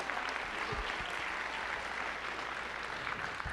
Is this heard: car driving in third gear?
no